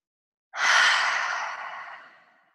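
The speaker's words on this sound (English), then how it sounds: "Maybe taking a really good deep breath." A single long, close exhale, a soft breathy sigh that starts abruptly, then fades gradually over about two seconds in a quiet room.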